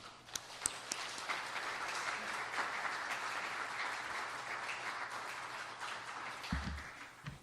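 A church congregation applauds steadily for several seconds, a dense, fairly distant wash of clapping with a few sharper claps near the start and some low thumps near the end.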